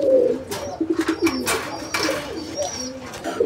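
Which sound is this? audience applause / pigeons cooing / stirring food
pigeons cooing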